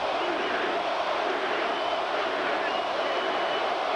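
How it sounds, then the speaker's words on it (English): A sellout boxing crowd at Judah vs Spinks 2 roars and chants the name Corey, a dense, loud, continuous wall of voices filling the arena. "the sellout crowd chants Corey, Corey"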